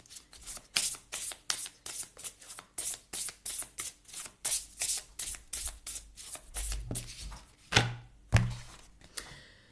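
Oracle cards riffled and shuffled by hand in a quick run of crisp, papery slaps, close and steady, then slowing to a few separate flicks and soft rustles as cards are drawn.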